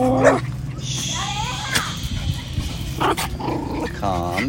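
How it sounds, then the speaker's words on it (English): Dogs at an earthquake relief camp in Puerto Rico whimper, yip and growl softly, their close, intermittent cries mixed with a person speaking gently over a steady background hum. "Hi, little doggies."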